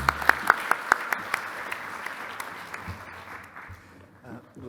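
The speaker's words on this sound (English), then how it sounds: "We may clap now." Audience applause at a medical conference plenary session on ECMO, a burst of sharp claps at the start settling into steady clapping that fades over a few seconds, with a voice speaking underneath.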